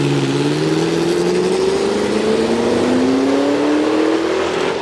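A car engine of the flat or V type revs steadily upward, its chunky, rising drone continuous and loud throughout with no talk over it.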